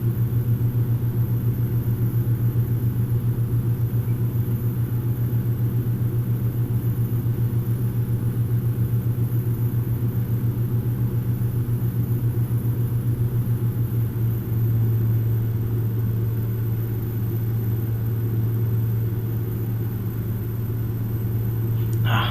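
Propeller aircraft engine drones steadily and loudly in a flight simulator during a night arrival in Norway, a constant deep hum with a slight shift partway through, with no talk over it.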